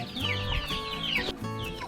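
Chickens cluck close by on a Thai farm where cattle are also kept, a quick run of short clucks over about two seconds with no talk.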